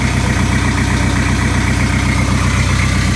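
A boat's engine idles steadily, driving an alternator that charges lithium batteries; a loud, continuous low throbbing rumble with a regular pulse holds unchanged throughout, with no voices.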